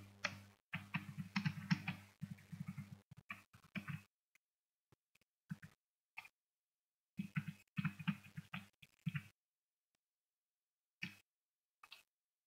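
An address is typed on a computer keyboard during a basic MS Office class, heard as quiet, close clusters of key clicks in irregular bursts separated by stretches of silence.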